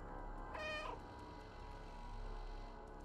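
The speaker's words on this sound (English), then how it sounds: "See, when I meow," A single short cat meow from the video game Stray, faint and brief, over a steady low background hum with no talking.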